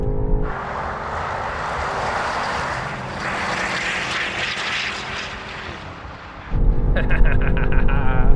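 Cars accelerating hard side by side in a rolling race, one a BMW, with a loud continuous engine roar that swells and holds, then cuts to a brighter, closer engine drone near the end.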